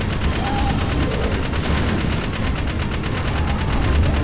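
Rapid, continuous turret gunfire in the video game Jak 3 rattles loudly and steadily for several seconds with no pauses.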